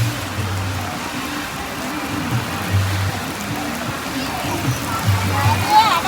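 Steady rain pours down at an outdoor Pongala festival in Paruthikuzhi, a broad continuous hiss over the whole stretch with intermittent low hum and some voices talking beneath it.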